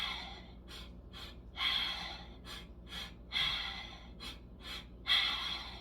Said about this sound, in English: alternate your inhales and your exhales with mouth and nose breathing